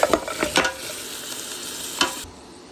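Mutton bones and shank searing with bay leaf and cinnamon in a pot for lamb shank soup, a few loud clunks and scrapes of stirring over a steady close sizzle, then quieter; no talk.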